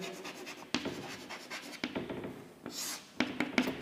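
Pen or marker scratching across a writing surface while a chemical reaction mechanism is written out, quiet close strokes in short bursts with brief pauses between.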